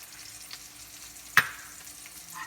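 Squeezed lemon juice goes into a sizzling pan of salmon and vegetables, giving one sharp splash-crackle burst over a steady, quiet frying hiss.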